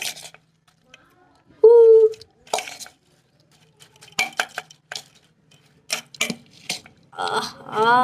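A spoon clinking and scraping against a bowl while mixing onion, tomato and chips, giving scattered short metallic taps and rattles between stretches of near silence, with a person talking over parts of it.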